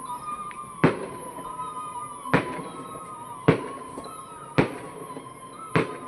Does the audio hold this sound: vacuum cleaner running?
no